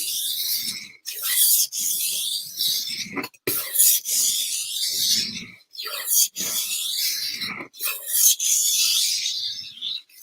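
A kitchen knife being sharpened on a sharpening stone, which is growing slightly uneven: repeated gritty rasping strokes, close and fairly loud, each pass separated by short pauses, with no talking.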